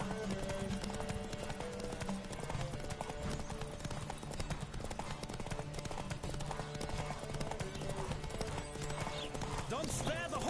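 Horse hooves gallop in steady clip-clop rhythm during a PS4 video game, running throughout over a busy music score and game sounds, with a brief whinny and some talking mixed in.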